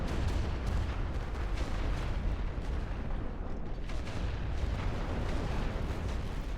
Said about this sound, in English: Chargez l'artillerie, c'est le barrage aussi.